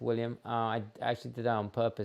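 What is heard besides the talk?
None of the usual background noises is heard.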